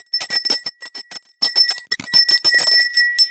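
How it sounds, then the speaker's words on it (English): A school teacher's hand bell is rung rapidly at the classroom door, giving a loud, close, continuous jangle of quick strokes with a sustained ringing tone, broken by brief pauses. "and she rang the bell"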